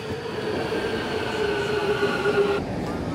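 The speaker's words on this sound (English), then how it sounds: "our metro has arrived" An Istanbul metro train runs steadily and loudly, a dense rumbling roar with a thin high wheel squeal drawn out through the middle, heard from close range with no talking.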